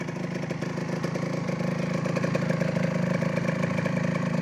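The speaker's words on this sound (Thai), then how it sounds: "ส่วนเครื่องยนต์ก็เบาดีครับผม ตับตับตับตับตับตับดีเลย" A small two-stroke Victor 150 motorcycle engine runs steadily with a rapid, buzzing putter and light mechanical clatter, close by and continuous throughout.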